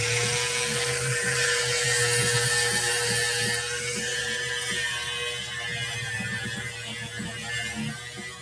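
A high-pitched rotary sanding tool whines steadily as it smooths the broken-off spot on a small sculpted bust, with music playing underneath.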